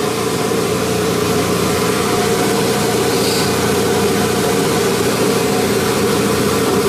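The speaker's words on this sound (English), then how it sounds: "we're going to gently lower the grinding head down until it just starts making sparks." An Abrasive Machine Tool Co. Model 3B surface grinder runs with its large grinding wheel lowered onto a steel knife blade, giving a loud, steady droning grind that holds unchanged throughout with no voices.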